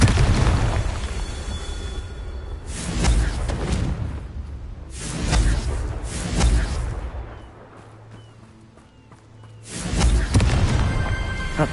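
Confringo fire spell explosions in Hogwarts Legacy on hard difficulty, several loud booming blasts with whooshing bursts spaced a few seconds apart, with heavy rumbling between them.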